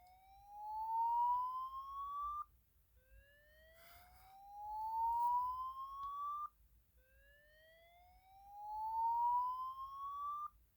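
An EST Genesis speaker strobe sounds its fire alarm tone in three long rising sweeps. Each sweep climbs in pitch for about two seconds and then cuts off, against a quiet background with no talk.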